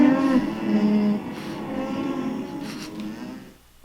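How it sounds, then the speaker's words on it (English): A drawn-out, wavering alpaca call, a nasal humming cry that rises and fades over a few seconds, heard alone and fairly close. "This is an alpaca."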